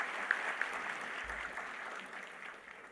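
Applause at a university day celebration for classical Indian musicians on vocals, tabla and harmonium: a soft, distant, continuous patter of clapping from a large hall, fading slightly toward the end.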